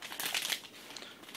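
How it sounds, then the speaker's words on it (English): Cellophane wrapping crinkling as an Apple Wireless Keyboard is unboxed: a brief, close, quiet rustle of plastic film, louder at first and then fading. "I love having the cellophane off."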